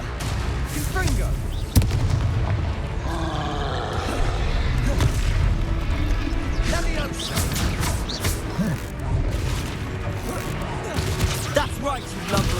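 Fiery Confringo spell blasts in the video game Hogwarts Legacy, booming explosive hits during combat mixed with sharp impacts and shouted character voices throughout.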